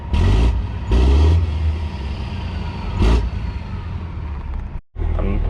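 A truck engine revs in short bursts, with three strong surges and a steady idle rumble between them, recorded up close.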